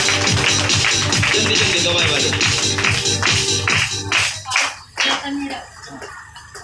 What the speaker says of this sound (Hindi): धन्यवाद है ताली के साथ।